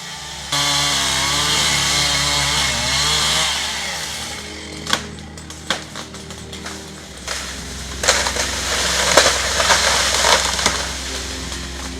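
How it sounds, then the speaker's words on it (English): A power saw runs steadily while an illegal logger cuts a large tree in a mountain forest, a continuous droning whine that dips and surges, with cracking and crunching bursts of wood breaking as the cut proceeds. "An hour later, the illicit logger started cutting the tree with his power saw."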